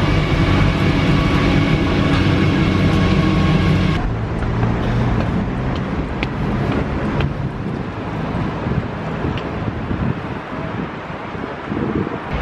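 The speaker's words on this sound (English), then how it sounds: "I'm on the train now." Steady loud rumble and rushing roar of a Paris metro train in motion, heard from inside the carriage, with a shift in the noise partway through as the ride continues without talk.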